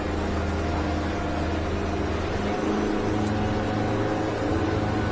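A Stabicraft 2750 Ultra Centrecab boat with twin 2023 Yamaha F20 outboards accelerates, a steady close engine drone rising slightly in pitch partway through over constant water and wind noise.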